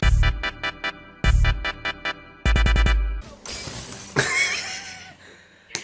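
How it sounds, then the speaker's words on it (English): A ceramic cup shatters in the Spider-Man video game, a loud crash of breaking pieces that follows a run of rhythmic musical hits and ends in scattered, ringing debris. "He's going to shatter the cup, isn't he?"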